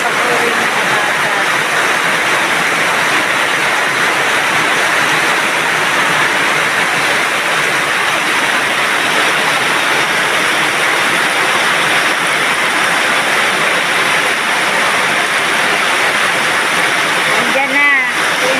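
Heavy rain pours down in a steady, loud, dense roar of water that stays constant throughout, with a brief knock near the end.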